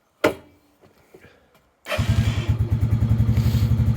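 A Lifan King motorbike engine starts at once after earlier turning over without firing: a sharp thump, a brief quiet pause, then the engine catches and settles into a steady, rapid idle putter, close and loud.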